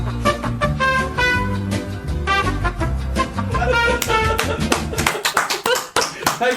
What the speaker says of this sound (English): That's the first clap in OSW history.